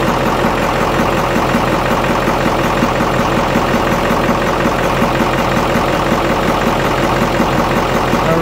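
A Caterpillar 3208 marine diesel engine runs at a steady idle during a coolant change, giving a loud, constant, unbroken rumble and clatter with no talking.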